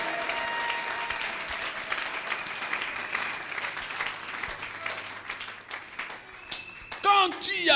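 Church congregation at a Sunday service clapping and cheering in acclaim of Jesus, with raised voices and shouts mixed through the applause, and a sharper vocal outburst near the end.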